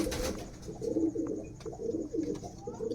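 Pet pigeons coo in steady, soft, throaty rolls close by, with faint chirps and small scuffs in the background.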